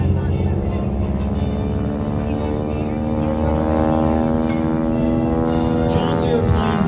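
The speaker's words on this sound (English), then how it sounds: "John's airplane War Dog is a North American SNJ-5 Texan" A North American SNJ-5 Texan named War Dog flies aerobatics at the Apple Valley Airshow, its radial engine and propeller giving a loud, steady, harmonic drone throughout, with a voice talking over it.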